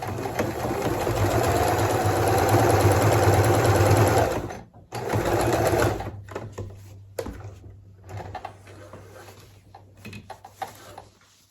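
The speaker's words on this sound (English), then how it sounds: "And I'm just running this presser foot right along this line." A sewing machine runs a straight stitch around a homemade mop head pad made from old towels and sweaters, buzzing steadily and close for several seconds, then stopping and starting in shorter bursts.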